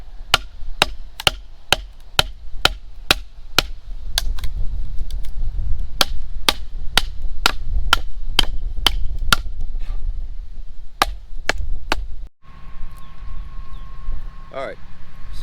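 A hatchet strikes a wooden board again and again in steady, sharp, close chops, around twenty blows in a regular rhythm over a low outdoor rumble. The chopping stops near the end and a faint voice follows.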